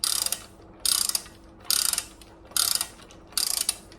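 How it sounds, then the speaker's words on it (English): A socket wrench ratchets in five quick clicking bursts with short pauses between them, close and clear, as it tightens the pulley nut and washer on a 1972 VW Super Beetle engine during an engine refresh. "Next, we're going to tighten down that pulley nut and washer."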